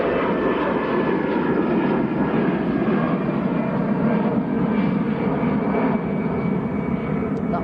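EasyJet passenger jet at Manchester Airport, a loud sustained roaring rumble of engines filling the whole stretch, steady and close without fading.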